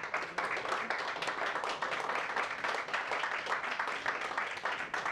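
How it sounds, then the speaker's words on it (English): Sustained applause from a crowd, a dense patter of many hands clapping at an even level throughout. "And just a big round of applause,"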